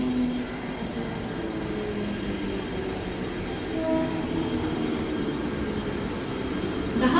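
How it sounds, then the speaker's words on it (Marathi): Mumbai suburban local train at Vikhroli station platform, a steady rumble of rolling wagons with metallic wheel squeal and clatter, loud and close throughout, without talk. "प्लॅटफॉर्म क्रमांक 3 पर आई हुई लोकल 10:14 की बदलापुर जाने वाली तेज लोकल है।"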